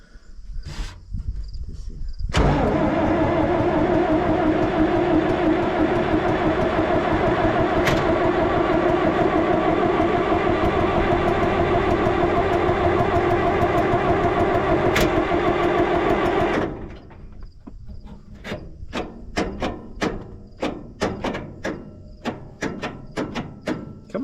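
International Harvester tractor engine cranks and catches, settling into a loud steady idle for about fourteen seconds before cutting out, leaving scattered clicks and ticks.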